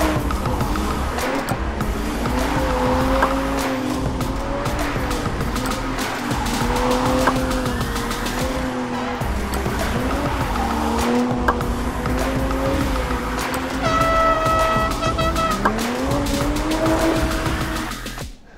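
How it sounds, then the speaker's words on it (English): A Toyota GR Supra does repeated donuts in a tight box at a Daytona event, with long wavering tire squeals rising and falling over a revving engine, loud and sustained through the whole run. "Drivers must do a half dozen donuts in a small confined space, AKA a donut box."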